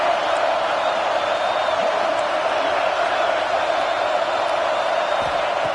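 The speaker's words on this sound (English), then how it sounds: "this defense feeling energy from the crowd" Steady roar of a stadium crowd in the football video game NCAA Dynasty 26, a dense, even wash of cheering that holds at the same level throughout with no clear peaks.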